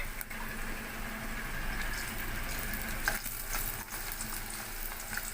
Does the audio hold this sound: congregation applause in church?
no